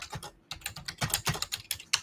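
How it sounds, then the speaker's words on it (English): Rapid typing on a computer keyboard, close and clear, with quick irregular clicks that come in bursts separated by brief pauses. "you could tell he's just typing in English"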